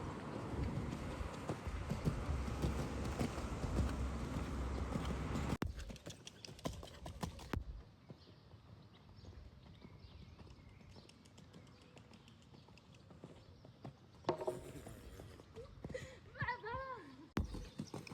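A horse's hooves clip-clop in a steady rhythm, loudest at the start before fading into quieter outdoor ambience with faint bird chirps.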